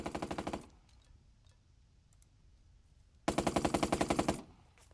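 A Bren gun Mark III fires in the Burden of Command video game: two loud close bursts of rapid machine-gun fire, the first short, then a pause with faint distant shots, then a longer burst.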